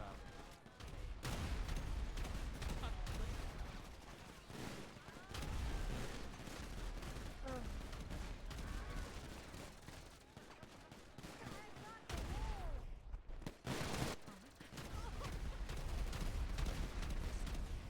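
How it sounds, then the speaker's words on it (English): Dense rapid gunfire aimed at the player in a video game, with sustained bursts of shots that rattle on almost without pause over a loud cluttered mix. "Oh, I'm getting shot now."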